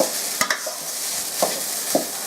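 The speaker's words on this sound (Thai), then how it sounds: "แล้วก็ผัดไปเลยครับ ผัดจนกะปิมันออกมีกลิ่นหอมออก" Shrimp paste (kapi) stir-fried in a pan, giving a steady, close hiss of frying broken by a few light scrapes and taps of the spatula.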